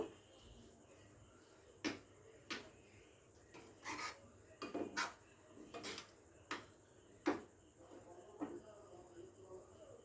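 Kulfi mixture is ladled into small clay pots in a home kitchen, with scattered sharp clinks and scrapes of the ladle against the pots, irregular and close, over a quiet background hum.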